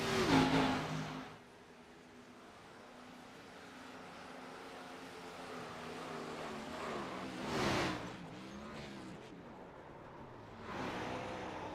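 A NASCAR Xfinity Series race car sweeps past on the Charlotte track in iRacing, engine rising and falling in a brief pass with another surge later, amid steady engine drone.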